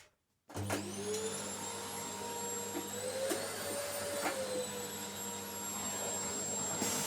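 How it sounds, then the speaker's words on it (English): A vacuum cleaner switches on after a brief silence and runs steadily, cleaning dust from an old computer, with a loud, droning whine and a low hum, its pitch shifting slightly. "I'm getting the vacuum cleaner right now."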